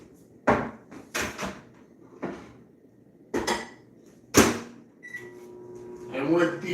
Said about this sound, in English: Go over to Mr. Microwave over here.